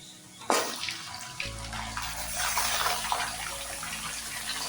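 Minced meat (keema) sizzling as it fries in a pan, a steady broadband hiss of oil and spattering that starts abruptly and stays loud and continuous, close up, with no talking.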